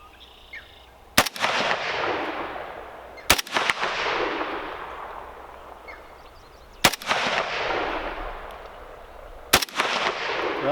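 Romanian AKM rifle fired outdoors, four sharp, loud single shots spaced a few seconds apart, each followed by a long echoing decay, with no talking between them.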